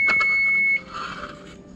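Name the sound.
kitchen timer beeping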